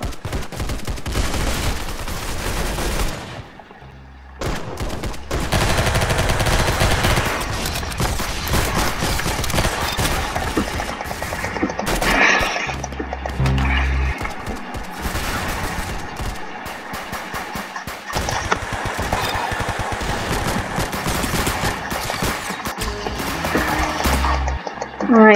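Rapid gunfire from Roblox Arsenal, a first-person shooter game, rings out in dense bursts and sustained automatic fire for nearly the whole span, loud and close, with brief gaps between volleys and no talking.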